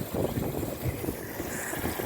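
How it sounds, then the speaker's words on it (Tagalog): Strong wind gusts roar and buffet the microphone in a continuous low rumble on a pomegranate and olive tree farm, with no other sounds. "Lakas ang hangin."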